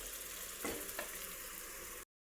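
Masala gravy for a milmaker (soy chunk) kurma frying in a pan, a steady broadband sizzle throughout with a couple of brief stirring scrapes, close and even, no voices.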